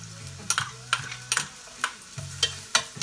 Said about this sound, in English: So my oil is obviously heated in my pan, and I'll just show you guys everything I'm adding to it. So I've got some onions. Just sauteing onions in here.